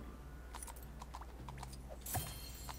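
Horse hooves clip-clop in the LEGO Movie 2 video game, a quiet run of light, evenly spaced clops over a low background hum, with a brief louder clatter near the end.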